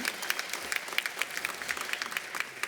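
Audience applause at a 2022 spring commencement ceremony for the Harry Van Arsdale School of Labor Studies in New York City, a steady spread of many hands clapping at moderate distance, fairly quiet and sustained throughout.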